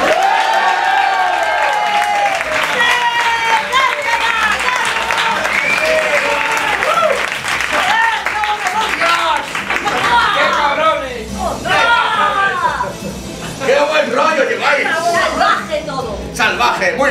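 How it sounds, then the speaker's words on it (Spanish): A bar crowd at Baba Bar in A Coruña breaks into loud, sustained clapping mixed with whoops, shouts and cheering voices, dense and close throughout. "Venga, va, aplaudid y volveros locos."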